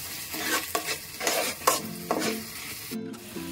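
Paneer masala being stir-fried with garam masala powder, a spatula scraping the pan in quick repeated strokes over a bright, close sizzle, brief pauses between strokes and no speech.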